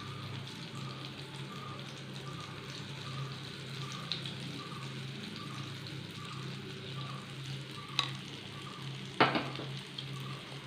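Bread coated in egg fries in a pan over a medium-to-low flame, giving a quiet, steady sizzle with light crackles and a couple of sharp clicks near the end.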